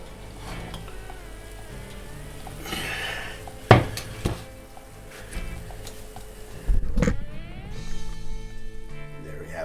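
A cast iron skillet holding a Yorkshire pudding is pulled from an oven, with metal clanks and scrapes, a loud knock near the middle and another clatter later, over a low background hum.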